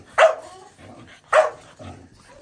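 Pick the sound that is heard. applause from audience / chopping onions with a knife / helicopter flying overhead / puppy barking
puppy barking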